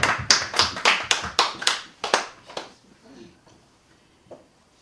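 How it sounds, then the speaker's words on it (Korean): Church congregation at a Korean Wednesday worship service claps in praise, about a dozen loud, quick, near claps in a steady rhythm over two and a half seconds, then fading to silence with a faint stray tap. "주님께 영광의 박수를 올리죠"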